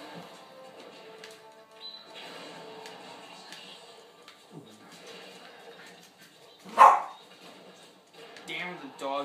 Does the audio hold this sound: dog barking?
yes